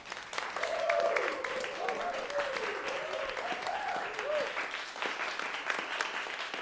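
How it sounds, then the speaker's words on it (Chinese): A classroom of students applauds with sustained, dense clapping that stays steady throughout, while a person talks over it. "大家掌声鼓励"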